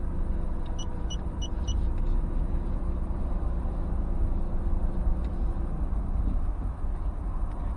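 A car moving slowly through a parking bay during a driving lesson, with a steady low engine rumble and road noise heard from inside the cabin, along with a few faint high beeps early on.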